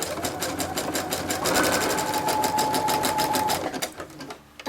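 A sewing machine runs a straight-stitch seam and a zigzag neatening edge on a simple fabric tote bag, one steady, close, continuous whirring run that eases off near the end.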